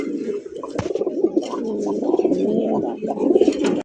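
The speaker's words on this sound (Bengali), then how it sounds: "গোল্লা কবুতরের কালেকশন দেখেন মাশাআল্লাহ" Fancy racer pigeons cooing in a loft, repeated low throaty coos overlapping from several birds nearby, with a sharp click and light rustling in between.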